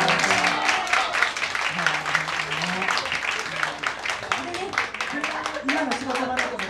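An audience at a small acoustic live show in a studio claps steadily for several seconds, with someone talking over the applause.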